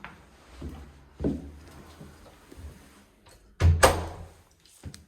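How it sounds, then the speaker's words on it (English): A door in a house being closed during a property walk-through, with scattered light knocks and handling sounds, then a firm thud and rattle as it shuts nearby, no talk. "I'll close the door behind"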